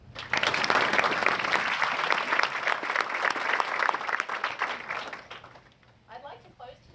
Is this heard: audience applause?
yes